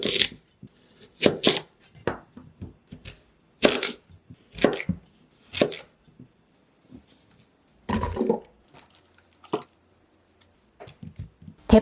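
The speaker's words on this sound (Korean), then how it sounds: "대파는 길게 썰어 냄비에 넣으시고요." A knife cuts green onion (daepa) lengthwise on a board in a home kitchen, several sharp, irregular chopping strikes spaced with short pauses, close and fairly loud, with no talking.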